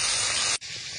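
Green chillies dropped into hot oil left from frying hilsa fish, seasoned with black cumin, give a loud, steady hiss that cuts off abruptly, leaving a softer sizzle.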